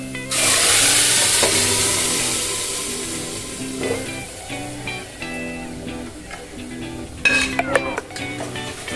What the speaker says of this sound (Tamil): பெருஞ்சீரகம் போட்டுக்கிறோம் தாளிக்கிறதுக்கு.